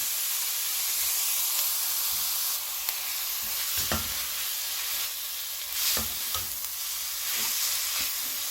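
Soaked seaweed stir-fries in a pot for Korean miyeokguk seaweed soup over low heat, with a soft steady hissing sizzle and a few distinct clatters of the spoon stirring against the pot.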